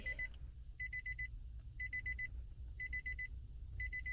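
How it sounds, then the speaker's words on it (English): Electronic beeping repeats in evenly spaced groups of quick high beeps over a low background rumble, with no talking. "Sorry about the beeping."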